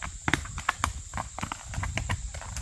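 A gaited Walkaloosa gelding steps across big, uneven creek rocks, its hooves clopping in a quick, irregular rhythm of sharp knocks, close and fairly loud, with no voices.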